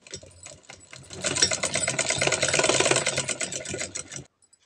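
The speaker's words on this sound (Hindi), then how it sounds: "फिर इस पर सीधी सिलाई लगा लीजिए।" Sewing machine running a straight stitch along a salwar pocket, starting with a few short clicks, then a fast, steady whirring rattle that builds and holds for a few seconds before stopping abruptly.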